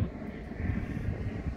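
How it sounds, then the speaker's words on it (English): A helicopter flies past near a lakeside house, a low, distant droning rumble holding steady throughout with some wind buffeting, and no voices. "Let that helicopter fly by."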